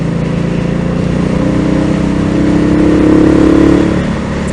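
An Indian Scout Bobber motorcycle engine, rated at 100 horsepower, runs loud and close with a steady rumbling drone that swells briefly as the throttle rises and then settles back.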